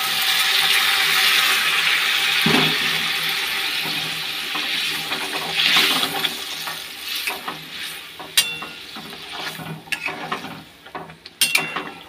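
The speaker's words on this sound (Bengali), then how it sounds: "যে গরম জল দিয়ে দিচ্ছি, গরম জল।" Hot water is poured into a plate in a home kitchen, a continuous watery rush that tapers off, followed by scattered clinks and light taps of utensils against the dish.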